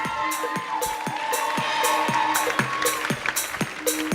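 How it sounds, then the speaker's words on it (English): At a school curtain call and finale, the audience claps steadily and rhythmically for the secondary-three performers. Sharp, evenly spaced clap bursts ride over music playing in the background. "Huge round of applause for our secondary threes"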